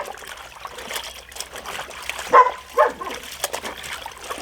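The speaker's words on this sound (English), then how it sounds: "They just bark and bark and bark." A couple of sharp dog barks ring out over the sound of clothes being hand washed in water, with light sloshing and trickling around them.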